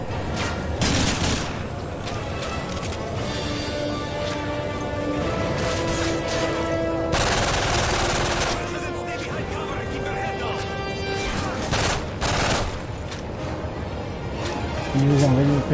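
Rapid bursts of gunfire and explosions from a first-person shooter game (Guerra Sem Fronteiras) fill the mix at steady loudness, with a player talking over the action throughout.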